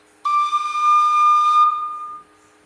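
A Thai khlui flute holds a single high Fa note, one clean sustained tone lasting about two seconds, close and loud, with a breathy onset and no talking.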